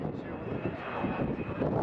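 Avro Vulcan XH558 with four Bristol Olympus engines flying past at an air festival display, a continuous loud rumbling jet roar with wind buffeting, while a commentator talks over it.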